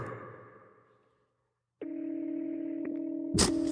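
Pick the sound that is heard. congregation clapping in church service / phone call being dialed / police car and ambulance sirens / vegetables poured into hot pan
phone call being dialed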